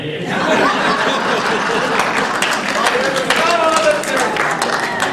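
An audience at a Hindi poetry recital breaks into sustained clapping, with a burst of applause and laughter that starts after a brief pause and then carries on evenly, dense and close.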